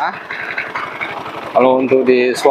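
Rough, rattly idle from a Honda Vario scooter engine that runs sluggish and harsh, ticking in a fast steady rhythm close by before a voice starts talking over the running engine.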